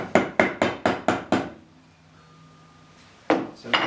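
A hammer taps an undercarriage part into place on a model, six quick, even, sharp knocks close by, then a pause and two more taps.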